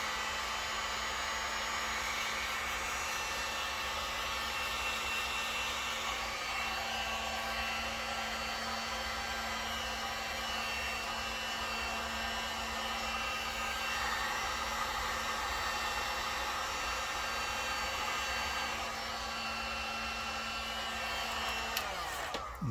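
A Harbor Freight heat gun blows continuously at close range, a steady loud whooshing roar with a constant motor hum that cuts off abruptly at the end.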